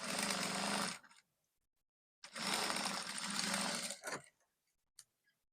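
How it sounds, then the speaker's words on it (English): Sewing machine stitching the neckline lining of a straight kaftan dress, two loud bursts of rapid whirring separated by a pause, followed by a few faint clicks. "First, you stitch on the neckline."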